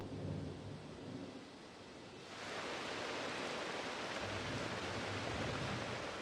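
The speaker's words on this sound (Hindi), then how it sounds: "आखिरकार बरसात का मौसम आ गया है।" Steady heavy monsoon rain pours down over the savanna, then swells into a louder, denser roar partway through, with low rumbling thunder underneath.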